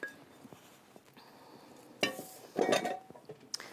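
Food lands on a foil-wrapped sheet pan with light clinks and a crinkly metallic scrape, close and quiet, in a few short bursts.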